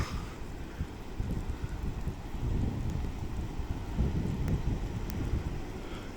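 Rain and gusting wind by the sea on the UK coast batter the microphone with a steady rumbling roar, heavy buffeting low noise throughout and no voices.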